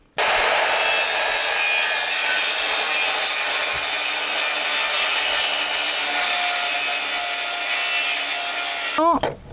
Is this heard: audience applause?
no